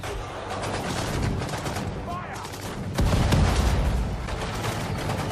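Rapid bursts of gunfire and explosive cracks from a World War II battle in Sudden Strike 4, targeting an artillery piece, sound dense and loud, with overlapping volleys and a heavier boom near the end.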